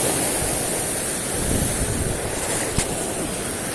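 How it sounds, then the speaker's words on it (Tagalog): Ocean waves roll and wash continuously near a fishing spot, a broad steady surf roar mixed with wind buffeting the microphone, with one brief knock partway through. "Lakong alon oh, laki."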